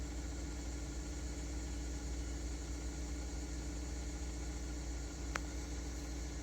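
A 2013 Mazda 3 four-cylinder with a faulty MAF sensor idles as its revs settle down from high idle, a low, even engine drone with a faint steady hiss, one tiny click near the end.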